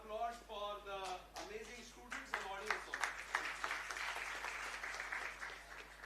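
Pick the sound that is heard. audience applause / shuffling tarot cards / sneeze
audience applause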